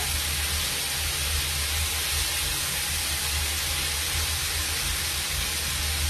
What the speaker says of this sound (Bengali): ভাজা হোক আস্তে আস্তে, তোমরা দেখতে থাকো।